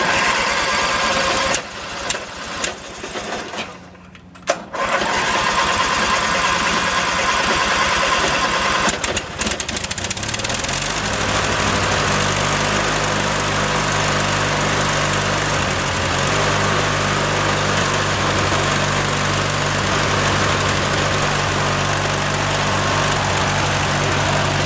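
A lawn mower engine putters unevenly, then settles into a loud, steady running drone close by, with no voices over it.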